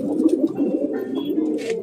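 A pigeon coos in a low, rolling series of soft throaty calls near at hand, with faint background chirps and rustles and no talk.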